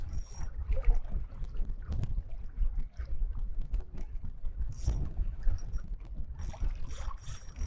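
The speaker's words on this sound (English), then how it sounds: "I really don't know how this audio is working, especially in this wind" Gusty wind buffets a microphone on a canoe during saltwater fishing, loud rumbling low thumps rising and falling irregularly, with faint splashy rustles between gusts.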